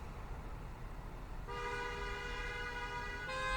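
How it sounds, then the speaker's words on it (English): Car horns sound in street traffic, a steady multi-tone honk starting partway through and holding over a low traffic rumble, fairly faint and distant. "come on with the honking"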